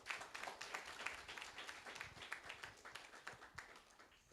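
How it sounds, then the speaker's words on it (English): An audience at an international science and technology conference applauds a keynote speaker, a soft, steady patter of many hands clapping at a distance, with no talk over it. "Give a big round of applause."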